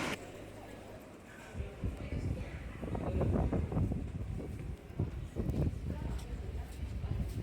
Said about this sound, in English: It was really windy.